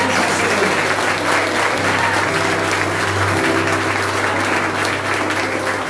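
A church congregation at an evening service in Garanhuns applauds, a steady wash of many hands clapping together, loud and sustained with a low hum beneath it.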